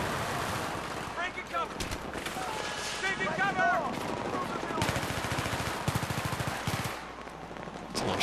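Bursts of automatic gunfire and scattered shots fill a Battlefield 3 match, loud and continuous, with players talking over the shooting.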